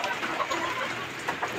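A Kanaway hen, a gamefowl breeder, clucks softly and repeatedly at close range over a steady background hiss, with a few slightly louder clucks near the end.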